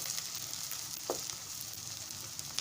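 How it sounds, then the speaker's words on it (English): Onions frying in hot coconut oil mixed with leftover meat-frying oil, a steady close sizzle and hiss running through the whole stretch without a break, with one brief clink partway in. "In a hot oil, I'll add some onions and fry for a bit before adding the tomato blend."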